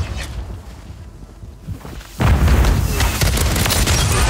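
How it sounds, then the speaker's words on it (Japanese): Enemy airstrike explosions in a first-person shooter game: after a quieter stretch, a sudden heavy boom hits around the midpoint and rolls on as loud, dense blasts and rumble until the end. "また敵の空爆？"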